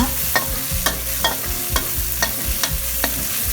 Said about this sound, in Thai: ตั้งกระทะให้ร้อนค่ะ ใส่น้ำมันนิดหน่อย แล้วก็ตามด้วยพริกแกงเลยค่ะ ผัดให้หอมนะคะ